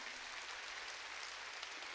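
Applause from a church congregation during a sermon, a soft, even patter of many hands that runs steadily through two seconds, distant and unaccompanied by speech.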